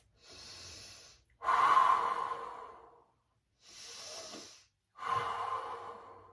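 Slow, deep breaths during a beginner yoga stretch for the low back: two full inhale-exhale cycles, close and soft, each airy draw followed by a longer release, with nothing else heard.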